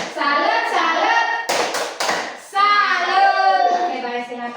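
Indonesian classroom pupils doing a rhythmic clap chant, children's voices chanting together with a few sharp claps in the middle, near and loud.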